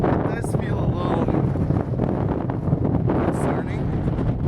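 Strong wind buffets a microphone high on a cloud-covered mountain, a continuous low rumbling roar with gusty swells throughout.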